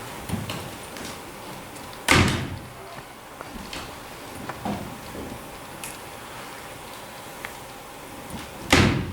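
A heavy door in a stage play production slams shut with a loud, sharp thud, twice, amid quiet theatre ambience and faint stage movement.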